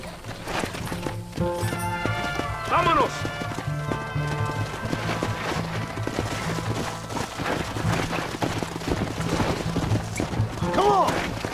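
Horse hooves clip-clop at a gallop in a Western video game, with a whinnying neigh and a voice calling out briefly, the pounding rhythm steady and close throughout.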